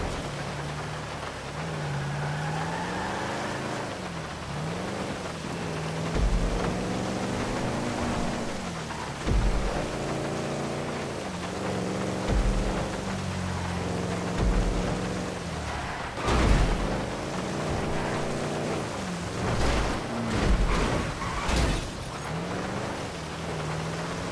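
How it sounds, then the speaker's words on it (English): Heavy rain pours down steadily in a video game, a dense, continuous hiss with occasional louder bursts layered over game sounds and a low droning tone throughout. "there's a lot of rain coming down"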